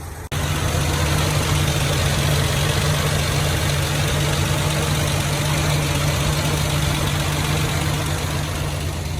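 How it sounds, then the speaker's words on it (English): A 1984 Ford Bronco II engine with an exhaust leak idles steadily with a low, even rumble and faint ticking, running continuously from start to finish with no voices. "I don't know what it's really idling at, but it sounds pretty good"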